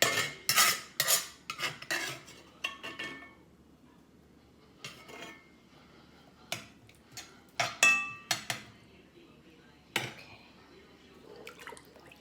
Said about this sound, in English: Kind of mix those in.